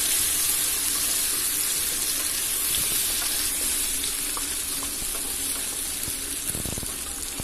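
Hog plums (amra) fry in oil in a wok over a low gas flame, giving a steady, dense sizzle throughout with faint scrapes and taps from stirring, close and continuous.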